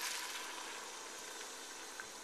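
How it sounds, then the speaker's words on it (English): Chicken broth hitting a risotto pan made with Veuve Clicquot, a steady hissing sizzle that holds evenly throughout, moderately loud and close with no talk over it. "Listen to that beautiful sizzle again."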